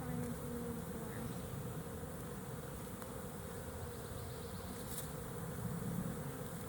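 Dense, continuous buzzing of many honey bees swarming around an open hive during an inspection, close and steady throughout with no speech.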